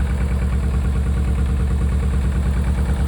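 A Rover 25 GTI's engine idles steadily nearby, a loud, even low rumble with a regular throbbing pulse and no change in pace throughout.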